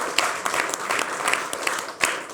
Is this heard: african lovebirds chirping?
no